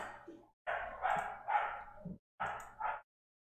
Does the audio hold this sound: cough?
no